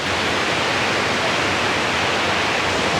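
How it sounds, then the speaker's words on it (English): Creek water at Cane Creek cascades near a suspension bridge rushes in a steady, loud broadband roar, continuous and close, with no voices over it. "I love the way the creek goes out through there."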